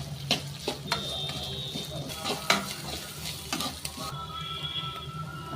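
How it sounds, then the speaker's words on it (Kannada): Onions, green chillies and curry leaves sizzling and roasting in a hot pan, a steady close frying hiss broken by the clinks and scrapes of stirring, with no voices. "ಈರುಳ್ಳಿ ಹಾಕ್ತಾ ಇದ್ದೀನಿ. ಒಂದು 6 ಹಸಿಮೆಣಸಿನ್ಕಾಯಿ ಹಾಕ್ತಾಯಿದ್ದೀನಿ. ಸ್ವಲ್ಪ ಕರಿಬೇವು ಹಾಕ್ತಾಯಿದ್ದೀನಿ. ಈರುಳ್ಳಿ ಎಲ್ಲ ರೋಸ್ಟ್ ಹಾಕಿ"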